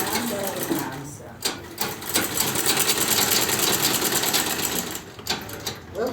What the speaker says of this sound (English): So say I will just sew it like this.